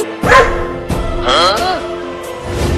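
A dog gives a few sharp barks and yips, close by, mixed with voices of people talking and a faint tonal background.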